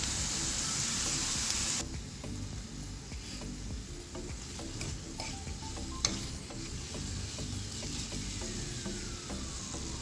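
Chopped onion and a few cloves of chopped garlic fry in a pan, a soft steady sizzle with occasional stirring scrapes and small clinks, quiet and close, no voices.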